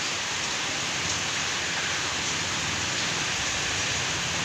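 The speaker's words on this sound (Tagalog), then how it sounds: "Para lalong lumakas ang ulan. Ayan po si Typhoon Hana." Heavy typhoon rain pours down in a dense, constant hiss, steady and fairly loud with no pauses or voices.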